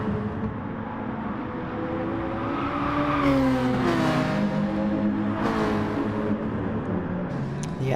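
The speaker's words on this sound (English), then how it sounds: "so I believe the number 3 Nissan's coming in." The number 3 Nissan GT3 race car in a racing video game heads into the pits at Lago Maggiore, its engine droning loudly with rising and falling pitch shifts as it slows and changes gear.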